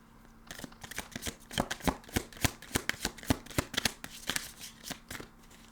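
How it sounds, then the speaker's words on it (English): A deck of oracle cards is shuffled close up, giving a quick run of crisp riffling flutters and sharp papery snaps in uneven bursts, with no talking. "Let's get some oracle cards going."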